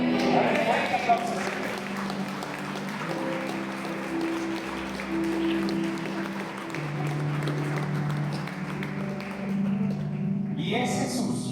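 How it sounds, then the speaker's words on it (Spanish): A church congregation claps together through a service, a dense wash of applause that runs throughout beneath a voice and sustained tones. "Dale fuerte aplauso"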